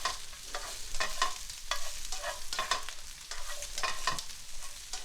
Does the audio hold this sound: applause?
no